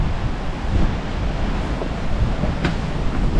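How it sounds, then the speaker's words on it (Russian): Stormy sea surf breaks against rocks on the Simeiz coast in Crimea: a continuous loud roar of waves mixed with heavy wind buffeting the microphone, with no talk. "вот буквально тут за углом просто бушующее море, которое разбивается, а камни с таким грохотом"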